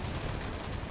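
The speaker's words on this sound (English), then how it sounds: "we actually survived that machine gun fire" Rapid machine gun fire in War Thunder, a dense, steady burst of shots running the full second at even loudness, with no talk over it.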